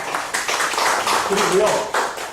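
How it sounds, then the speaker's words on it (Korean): An audience at a university teaching lecture at Kyungpook National University applauds, with a patter of hand claps running beneath a man's speech. "박수 한번 주십시오."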